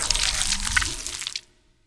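A watery, squelching morph sound effect for a character's hand transforming: a dense, wet, bubbling texture lasting about a second and a half before cutting off, close and alone.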